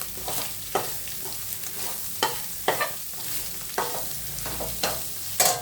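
Fried egg is stirred into onion-pepper rice in a hot pan, giving a soft continuous sizzle punctuated by sharp scraping clanks of the spatula at irregular intervals.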